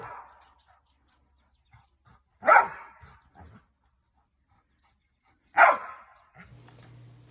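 Out in a forest, a dog gives two sharp, loud barks a few seconds apart at squirrels up in the trees, with quiet gaps between them and a faint hum at the end.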